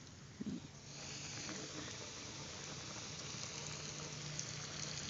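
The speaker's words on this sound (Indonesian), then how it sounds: "terus kita goreng lagi yang tadi udah di ituin" Chicken frying in hot oil for street-style fried chicken, giving a steady, moderately quiet hiss and sizzle throughout after a short bump at the start, with no talk.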